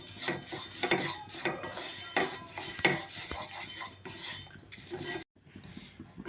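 Flaxseeds dry-roast in a pan while a spoon stirs and scrapes them, giving close clinks and scrapes over a faint sizzle, until the sound abruptly cuts out near the end.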